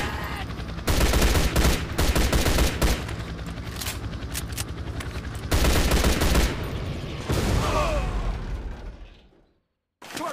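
Loud, sustained gunfire from the mobile shooter game Fusion War, dense bursts of automatic fire and explosions filling most of the stretch, with brief breaks and a near-silent gap just before the end.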